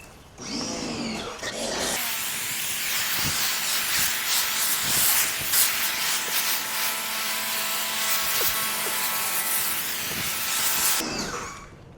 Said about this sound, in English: Let's foam up, pre-wash.